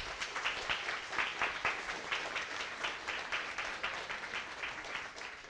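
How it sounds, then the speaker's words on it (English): Audience applause following a conference talk on object-oriented programming in JavaScript, a steady, dense patter of many hands clapping in a hall, moderately loud and sustained without speech. "Great applause."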